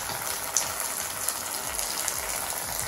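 Water gushes steadily from a main pond into a koi pond, a continuous hissing splash heard close up and alone.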